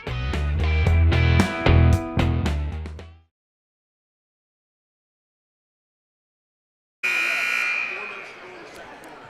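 A loud, sustained electronic buzzer blares at a high school girls basketball game for about three seconds and then cuts off. After a silent gap, gym crowd noise returns.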